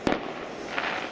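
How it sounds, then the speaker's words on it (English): Fireworks going off outdoors at night, one sharp bang at the start followed by a continuous crackling, fizzing rush with a second fainter pop, fairly loud and near. "They're not as good as Mike's fireworks"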